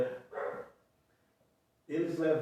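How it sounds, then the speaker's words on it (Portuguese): A dog barks in two short bursts separated by a quiet gap, with people talking around it. "esse cachorro é de brincadeira, né?"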